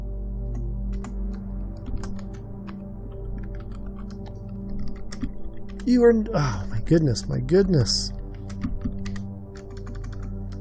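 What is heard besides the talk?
typing on a computer keyboard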